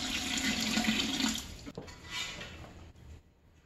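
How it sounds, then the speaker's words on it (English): Water pours steadily into an All-American pressure canner being readied for canning cabbage, a close splashing gush that eases off after about a second and a half into quieter trickling, with no talk. "Let me add some water."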